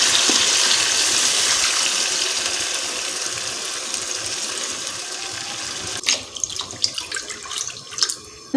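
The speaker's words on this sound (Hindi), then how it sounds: "तो ये 5 मिनट भुनाई के बाद अब हम इसमें डाल देंगे पानी।" Water gushes steadily into a pot of chicken feet curry for several seconds and fades, followed by a few faint clinks and splashes.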